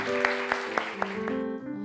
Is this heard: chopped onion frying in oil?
no